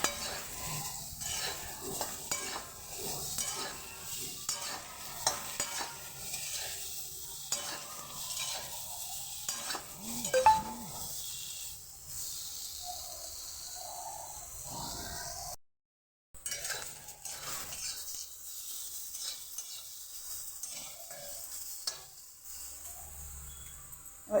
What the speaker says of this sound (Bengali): এটাকে একটু নাড়াচাড়া করে দেবো কড়াই